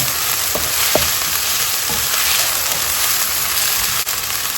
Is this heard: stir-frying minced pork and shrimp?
yes